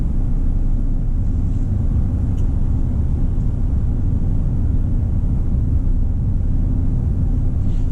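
A 2019 Chevy Silverado RST pickup with the 5.3-liter engine on the move, heard from inside the cab as a steady, loud low-pitched drone of engine and road rumble, constant and without talk.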